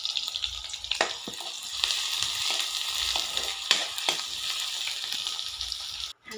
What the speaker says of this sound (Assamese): এতিয়া ভাজিম আৰু ইয়াতে পিঁয়াজ, তেজপাত, আদা, নহৰু পিচি লৈছোঁ। তেলতে দি দিম এতিয়া।